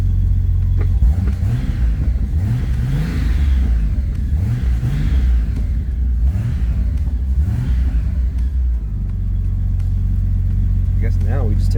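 A warmed-up Datsun 280ZX Turbo engine idling at around 900 rpm, a loud, steady low rumble close by, with people talking over it.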